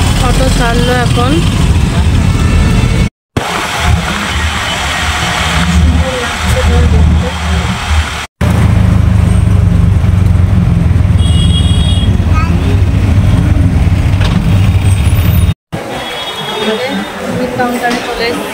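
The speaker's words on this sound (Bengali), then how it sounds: "অটো ছাড়লো এখন।" An auto-rickshaw engine at night runs with a loud, steady mid-pitched drone and occasional revving, with voices talking over it.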